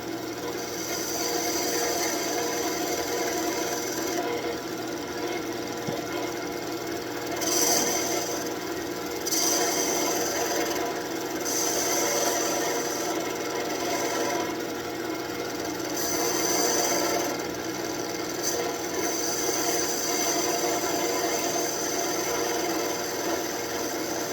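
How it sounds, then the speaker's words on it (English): Sandpaper rubbing a birch branch turned on a wood lathe: a steady, continuous rasping hiss that runs the whole time with slight rhythmic swells, close and fairly loud, with no talking. "Clean that up with a little sandpaper."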